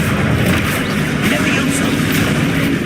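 Spell blasts from Confringo and other spells cast in a Hogwarts video game, a dense, continuous rumbling roar with booming bursts, loud throughout, with a voice calling out spell names.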